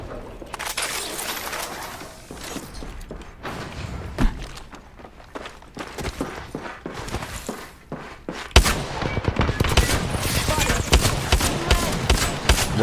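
Rapid gunfire in an Apex Legends-style shooter playing Wattson, with dense bursts of shots, thuds and footsteps across the whole stretch that grow louder and busier after a heavy impact midway, mixed with faint background game sound.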